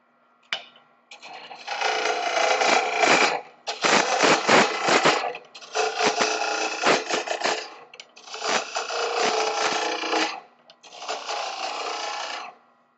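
A wood lathe turning a handle, heard as five bursts of rasping, scraping cutting noise against a steady low motor hum, each lasting a couple of seconds with short pauses between, close and moderately loud.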